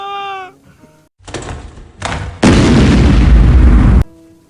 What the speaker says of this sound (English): There have been explosions. Yes, upon my word, explosions.